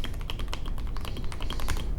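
Fast, continuous typing on an NZXT Function Elite MiniTKL keyboard: dense, crisp key clacks in a quick irregular patter, close and clear with no talking.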